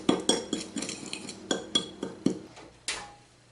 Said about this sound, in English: Mix that up real well. Also breaking up the brown sugar. Getting it real well mixed.